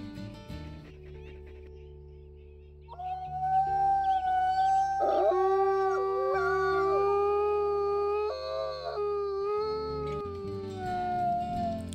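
A wolf in the Wolf Quest video game lets out a loud, sustained, haunting howl that rises and wavers for several seconds before trailing off, heard alone without talk.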